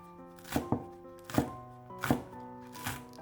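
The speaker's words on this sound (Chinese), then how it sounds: "将葱切成葱花，" A knife chops green onions on a cutting board in a few separate, evenly spaced strikes, some landing as quick double hits, each a close, resonant thud with no talking.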